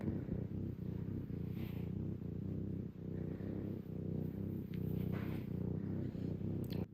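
A kitten purrs close by in a home, a soft continuous rhythmic rumble with steady breath-paced pulses and no one talking.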